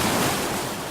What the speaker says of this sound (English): is actually the sound of water racing into the park